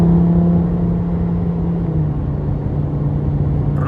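Lamborghini Huracan Sterrato exhaust held at high revs past 3,500 rpm with the valves open, a loud close steady engine drone with a slight pitch drop midway.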